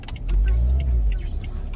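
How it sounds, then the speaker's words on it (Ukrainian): An old 15-year-old car, bought in France, rumbles at idle just after starting, a steady low engine drone close by with faint clicks above it. "Машина завелась, машина у нас е, старенька."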